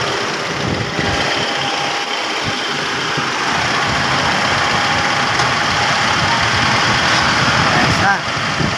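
A car engine runs steadily after a timing belt and hydraulic tensioner replacement, humming evenly and close by, while someone talks over it.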